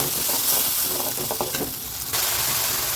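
Ground tomato purée sautéing in hot oil for a village-style okra tamarind curry, a steady broad sizzle and hiss that carries through the whole stretch with faint stirring.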